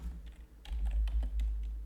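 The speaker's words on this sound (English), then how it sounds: "I'm going to type it all out again." Code is typed on a computer keyboard, with a quick, uneven run of soft key clicks close by in a quiet room.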